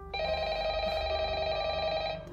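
A telephone bell rings steadily in a Minecraft FNAF roleplay, one continuous bright electronic ring that is loud and close and heard alone with no talk.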